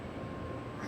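A Japanese bullet train pulls away from a station platform, a steady low, broadband rumble and rush at moderate distance with no talking.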